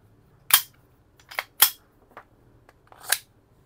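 Four sharp snapping shots ring out from a GHK G45 airsoft pistol, spaced unevenly over a few seconds, crisp and close in a quiet room.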